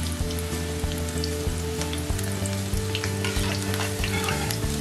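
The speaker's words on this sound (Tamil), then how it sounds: "ரொம்ப ஹெவி ஃப்ளேமில் இல்லாமல் ஃப்ரை பண்ணுங்க" Cauliflower florets frying in hot oil over moderate heat, a dense, continuous close sizzle with occasional stirring clicks and scrapes, loud and steady with no voices.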